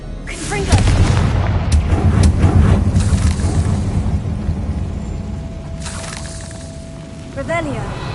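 A Confringo explosion spell in Hogwarts Legacy: a heavy, booming blast that swells into a long, loud rumble with crackling, fades slightly, then a smaller burst follows near the end.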